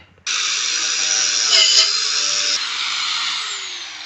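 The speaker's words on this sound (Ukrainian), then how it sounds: "Але спочатку перед зваркою зачистимо всі наші інструменти шліфмашинкою." An angle grinder whines loud and close as it scours the surfaces of shovels to be welded, starting abruptly and running steadily, its pitch shifting slightly partway through.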